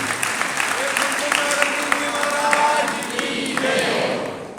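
Sustained applause from a large crowd at a Jain religious discourse in Sadalga, a dense wash of clapping that fills the space and slowly fades, with a voice speaking over it.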